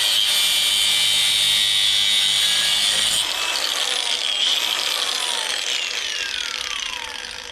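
A power tool whines at high pitch while cutting the threads off a small metal tube that a four-wheeler's throttle cable slides into. Partway through, the cutting stops and the whine winds down, fading as the tool spins to a stop.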